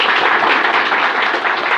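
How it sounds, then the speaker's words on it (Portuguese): An audience claps steadily for the speaker Paulo after a talk, with dense, even applause holding at a constant loud level throughout. "Então, um salve de palmas para o Paulo"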